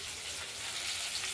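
Potatoes and beans sizzle in hot oil as a spice paste goes in, a close, even hiss of frying that holds steady through the whole short moment, with no voices.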